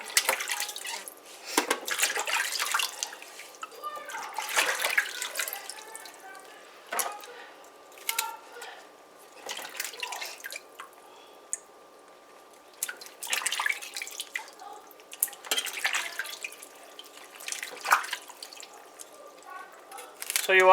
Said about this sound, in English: wash our Pak Choi Baji